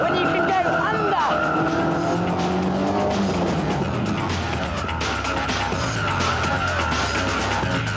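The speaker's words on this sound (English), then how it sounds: "The low centre of gravity makes a reverse flick a joy" A lightweight, low-slung Westfield sports car does a reverse handbrake flick in a car park. Its tires squeal and skid loudly throughout over the engine's drone, and a voice talks over the top.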